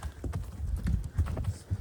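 Horses on a summer pack trip plod along with hooves clip-clopping in an uneven, overlapping rhythm, close and fairly loud, with no talking.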